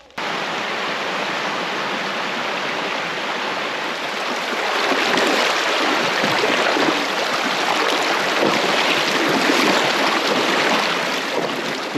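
A rushing creek on a hiking trail near Cheaha, Alabama, flowing in a loud, steady wash of water noise that swells slightly midway as hikers cross.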